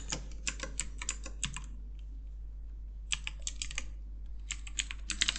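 A nickname is typed on a computer keyboard for a Minecraft login, quick close bursts of clicking keystrokes in three runs separated by short pauses, over a low steady electrical hum.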